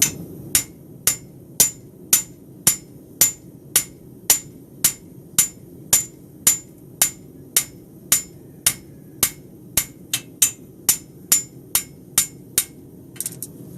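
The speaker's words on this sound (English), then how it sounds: "I'm going to get rid of that thickness by half face hammer blows on the inside of this web" Sharp, evenly spaced metallic half-face hammer strikes on the inside web of a straight bar horseshoe, about two per second, loud and close, some in quicker bursts near the end.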